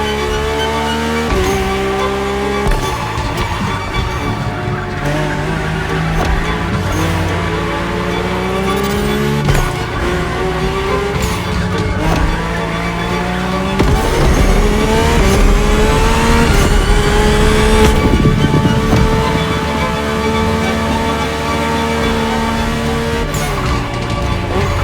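A Mercedes-AMG One hypercar in the racing game The Crew Motorfest, its Formula One-derived engine revving hard and continuously through rising and falling gear sweeps, loud and close, with brief tire squeal, no talking.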